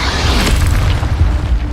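The Incendio fire spell goes off in a Hogwarts video game as a dense, loud burst of roaring, crackling flame with a heavy low rumble, sustained and steady throughout.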